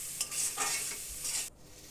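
Mushrooms and chow mein noodles are stirred and tossed in a hot pan, giving a close, bright sizzle with scraping for about a second and a half before it cuts off.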